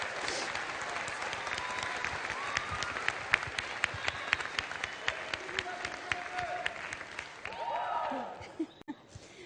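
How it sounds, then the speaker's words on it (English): A crowd at a high school graduation ceremony applauds for parents with sustained clapping, sharp individual claps standing out, and some chuckling and voices near the end as it dies down. "Could we have a round of applause, one more, for our hardworking parents"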